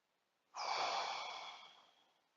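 A long, airy exhale out through the mouth during a slow yoga breathing exercise, beginning abruptly and fading gradually over about two seconds, close and soft with no talking.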